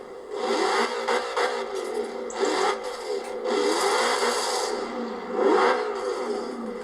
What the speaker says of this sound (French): c'est ça que je kiffe dans les V10, c'est un super son